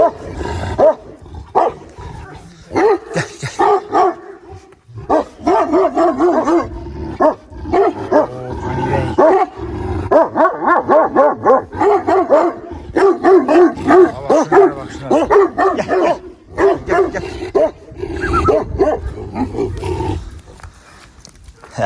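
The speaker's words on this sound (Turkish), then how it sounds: "Daha sonra bütün köpeklerle Pani'yi tanıştıracağız." Several dogs bark repeatedly in loud, close bursts throughout, with growly, roar-like barks overlapping at times as a new dog is introduced to the pack.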